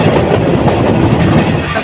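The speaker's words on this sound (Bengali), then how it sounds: "এক্সপ্রেস ট্রেনটি অল্প কিছুক্ষণের মধ্যে শ্রীমঙ্গল রেল স্টেশনে গিয়ে প্রবেশ করবে" Parabot Express train on the Dhaka–Sylhet line, pulling into Sreemangal station: a steady, loud rumble of wheels and carriages running continuously throughout, with no horn standing out.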